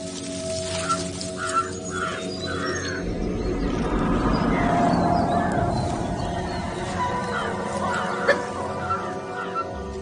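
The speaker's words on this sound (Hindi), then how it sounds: "ये अलार्म कॉल्स मुझे लेकर नहीं दी जा रही।" Animal alarm calls ring out in the Kabini forest, several sharp cries spaced over a rumbling background, some near and some farther off.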